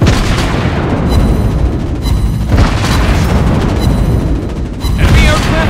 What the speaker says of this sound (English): Anti-aircraft gun on full alert! Enemy aircraft incoming!